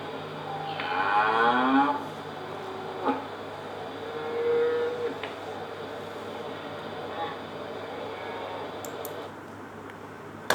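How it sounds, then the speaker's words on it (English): A cow moos once in a long, low drawn-out call, followed by a couple of shorter, fainter lows over a steady background hum. "if there is a cow and it's is mooing, its sound is very low"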